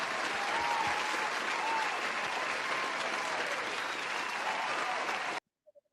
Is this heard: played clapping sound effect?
yes